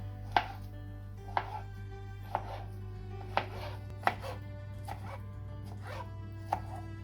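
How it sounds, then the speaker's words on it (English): A knife chops soft roasted eggplant into small pieces on a board, landing about eight crisp, evenly spaced cuts over a low steady hum, close and clear with no talk. "Cut it into small pieces."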